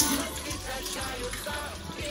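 Warm water runs steadily from a tap with a continuous splashing rush, close by and alone.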